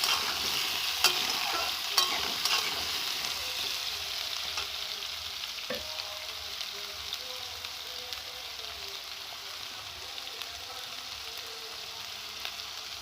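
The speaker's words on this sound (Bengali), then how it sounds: "আগে থেকে কেটে রাখা আলু বেগুন দেবো ভালো করে নেড়ে চেড়ে নেবো আমি" Pre-cut potato and eggplant stir-fried in a pan: a constant hissing sizzle with occasional light scraping stirs and clicks, close but fairly soft, with no talking.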